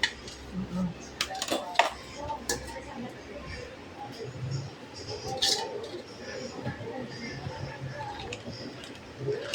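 Clam and moringa soup being stirred in a pot, with a utensil clinking and scraping against the metal in irregular taps while a person talks over it.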